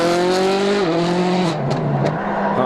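Rally car on a forest stage at WRC Rally Wales Great Britain 2010, its engine roaring loud and close with gear changes dropping the pitch, plus brief tire and gravel noise.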